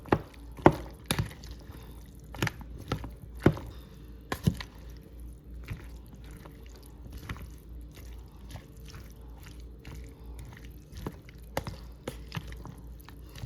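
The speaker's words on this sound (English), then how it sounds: "Just me stirring this up right now." A spoon stirring rotini pasta salad with Italian dressing in a bowl, giving occasional soft wet squishes and clinks over a low, quiet background.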